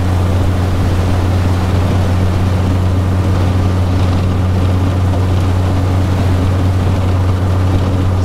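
A SkiffWorX skiff runs at full throttle through choppy water in 14 mph winds, a loud, constant outboard drone mixed with wind and water rush, with no talking.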